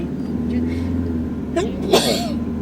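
A single sharp sneeze from a person during a conversation, sudden and close, after a brief vocal intake, over steady low background hum.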